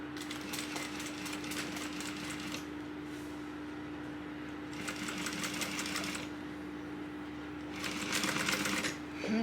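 A sewing machine runs three separate stretches of rapid, even stitching while topstitching a tote bag at one-eighth inch, with a steady motor hum continuing between bursts and no talking.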